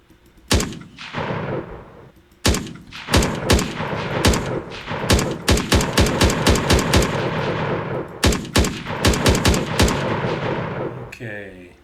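Gunshot effects fire in an Unreal Engine third-person weapon test, with bursts of rapid automatic shots separated by short pauses. They are loud and sharp, and no one talks over them.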